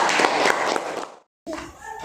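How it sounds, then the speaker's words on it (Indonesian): A burst of group applause in a fourth-grade classroom, many hands clapping together for about a second, then it cuts off and voices and room noise follow. "Tepuk tangan untuk kelompok bineka."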